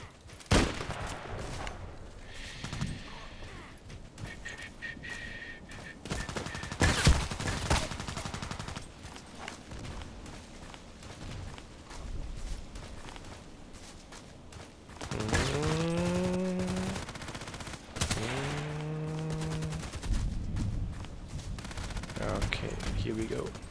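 EBR rifle shots in a first-person shooter game, sharp bursts scattered through the clip over a busy background, with some tonal sweeping sounds later on.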